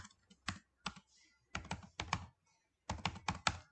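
Keystrokes on a computer keyboard while SQL database commands are entered, coming in quick irregular clusters of crisp clicks with short pauses between bursts, close and fairly quiet, no voices.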